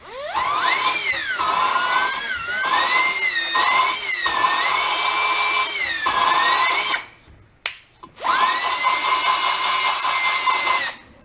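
A power drill spins a valve against lapping compound while a VW Bus engine is rebuilt, a loud steady whine with pitch wavering and shifting, briefly stopping near the end before running again at a steadier pitch.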